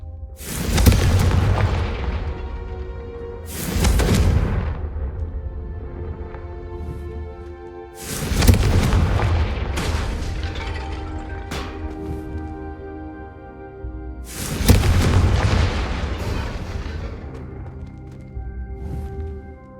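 Confringo blasting spell explosions in the video game Hogwarts Legacy, four heavy booming blasts spaced several seconds apart, each decaying into a long ringing, rumbling tail, loud and close with no talk.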